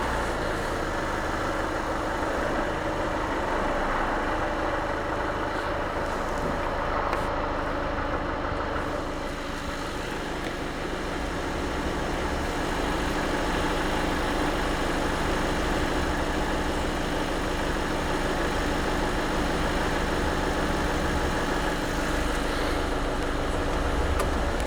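An Audi A3 diesel engine from 2014 idles steadily in a garage during a service, a continuous low rumble with a faint hum that stays even throughout, with no talking.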